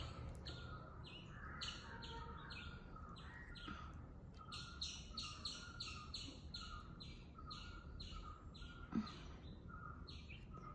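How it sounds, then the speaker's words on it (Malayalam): Small birds chirp outdoors in repeated bright, rhythmic bursts of tweets throughout, at moderate distance over a soft background hum, with no talking. "എന്തൊക്കെയോ കിളികളുടെ നാദമൊക്കെ ഉണ്ട്"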